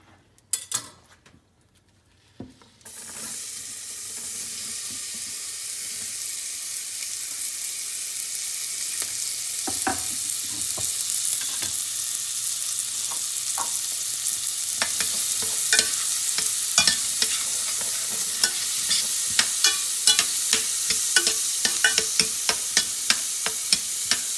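Onion sweating in a hot pan for huevos rancheros: after a brief quiet start, a loud steady sizzle takes over, broken by scattered crackles and stirring clicks that grow more frequent toward the end.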